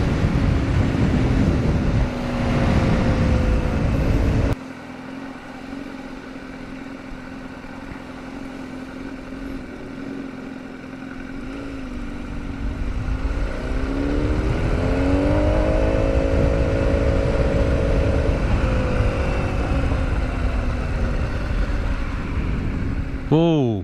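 A motorcycle engine idles with a low, buzzy drone. Partway through, it pulls hard in first gear, its note climbing and swelling loud and close before easing off.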